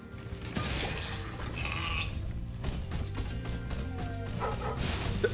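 Dogs in Spyro Reignited Trilogy give repeated yipping barks, moderately loud, over layered game music and sound effects.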